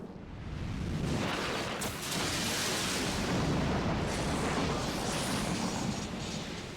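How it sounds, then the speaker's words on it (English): A flashbang explodes in Final Fantasy XIV Online, a broad, roaring rumble of noise that swells after a brief onset and holds loud and dense for several seconds. "Actual flashbang."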